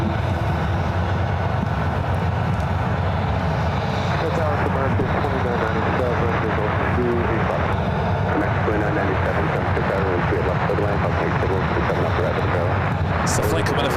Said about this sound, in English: we got that Air India 777 heading to the 28s.